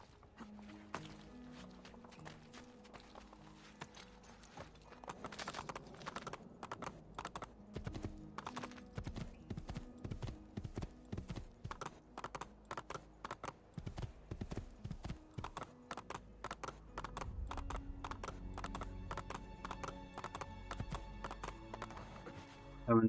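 Horse hooves clip-clopping in Assassin's Creed 2, a rapid steady rhythm of sharp hoof strikes on a hard surface, loud and close, with a brief whinny and a soft musical bed beneath.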